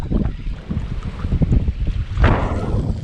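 Strong gusting wind buffets the microphone at a waterside fishing spot, with broadband low rumble and fluctuating roar, swelling noticeably near the end; no talking.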